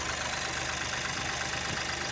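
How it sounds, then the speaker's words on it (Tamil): A Mahindra TUV300 engine idling just after a drive belt and tensioner replacement, a steady, even mechanical hum and whir heard up close and alone for a couple of seconds. "இப்போ இந்த வண்டியை வந்து ஸ்டார்ட் பண்ணியாச்சு."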